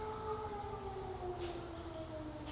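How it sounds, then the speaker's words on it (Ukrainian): An air raid siren wails from a distance near a greenhouse, a faint, steady, slowly falling tone held for the whole stretch with no talk over it. "Повітряна тривога."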